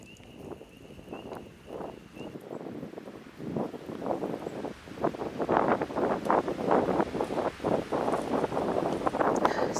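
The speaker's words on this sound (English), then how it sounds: "The wind just started picking up like crazy." Strong wind gusting at a wilderness campsite in Dolly Sods, starting light and rising into loud, rough buffeting rushes that roar against the microphone in repeated waves.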